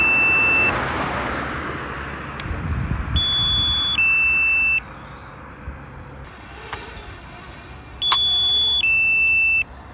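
A drone controller's alarm beeps in several sustained bursts of high electronic tones, with quieter gaps in between. Outdoors, with a faint rumble underneath.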